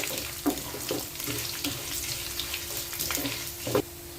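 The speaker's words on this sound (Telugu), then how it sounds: "అల్లం కూడా నూనెలో మగ్గితే చాలా బాగుంటుంది వేగితే" Chopped ginger fries in oil in a pan, a soft, close sizzle broken by light stirring scrapes and clicks, fairly quiet and with no talking.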